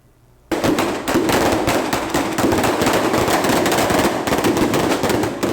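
Fireworks and gunshots go off at night over the Complexo da Penha during a clandestine funk party, a sudden loud outbreak of rapid crackling bangs that keeps going after a quiet start.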